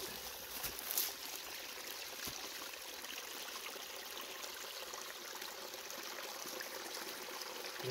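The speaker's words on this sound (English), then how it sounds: "Here's the water source." A mountain stream at a trail's water source runs in a soft, steady trickle and wash, faint and unbroken throughout, with no voices.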